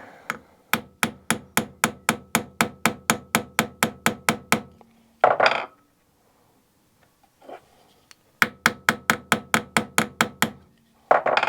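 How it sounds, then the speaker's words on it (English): A hammer taps a pin out of a part clamped in a vise, giving two runs of steady, evenly spaced sharp metallic knocks, close and loud, separated by brief handling noise and a quiet pause. "I'm just going to tap out this pin"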